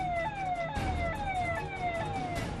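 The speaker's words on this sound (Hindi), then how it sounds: "अफरा तफरी के बीच एम्बुलेंस के सायरन की आवाज माहौल को और डरावना बना रही थी" An ambulance siren wails in a rapid, repeating falling sweep, loud and fairly close, cycling several times over faint street background.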